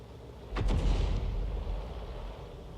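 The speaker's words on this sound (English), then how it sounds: "that looks to be a Sturmpanzer blind shot" A Sturmpanzer II self-propelled artillery gun fires a single shot in World of Tanks, a sharp boom followed by a rolling, fading rumble at moderate distance.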